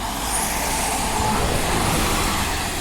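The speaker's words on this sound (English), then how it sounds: "you see a bus driving through the city with the number 26 on it on the display" A route 26 city bus rolls past on an urban street as a steady, broad roar of engine and road noise, fairly loud and close for a few seconds, with no talk.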